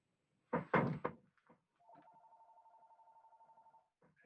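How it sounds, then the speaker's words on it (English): A few thumps and knocks, then a telephone rings with a steady trilling tone for about two seconds, fairly faint and close. "My wife will get the phone."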